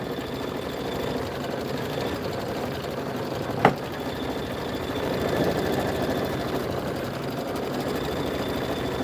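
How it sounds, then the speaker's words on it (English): A Kimberbell embroidery machine runs a quilting stitch on a bunny bench pillow border, giving a steady mechanical whir with one sharp click partway through, alone and at even loudness. "Now it's doing the quilting stitch."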